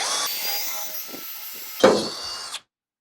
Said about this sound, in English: So we're going to drill this out quick.